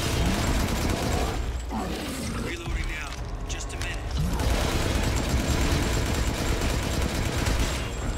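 Gunfire in Resident Evil Village while playing as Chris Redfield, rapid bursts of loud automatic shots with mechanical clatter, a brief lull in the middle, then sustained firing again, with a voice talking over it.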